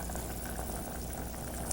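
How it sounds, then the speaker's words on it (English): A big pot of dal bubbles steadily on the stove at a low simmer, a close, even wash of boiling liquid with no voices. "we're going to turn it down to a simmer"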